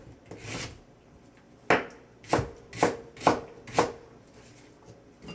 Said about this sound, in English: a couple small chops otherwise, nice medium size